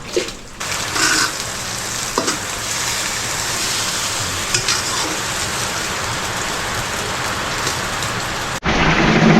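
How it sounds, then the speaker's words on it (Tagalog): Heavy rain pours down steadily, a dense, loud wash of drops on surfaces that fills the whole stretch and cuts off abruptly near the end. "at bumuhos na naman ng malakas na ulan mga kautol."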